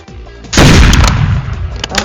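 A single loud, sharp sniper rifle shot in the Roblox game Hypershot cracks out close, followed by a decaying rumble and a few faint clicks.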